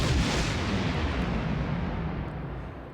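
A heavy explosion in the Star Trek Online video game, already at full force as a broad, rumbling roar that slowly thins and fades over a few seconds, with no voices.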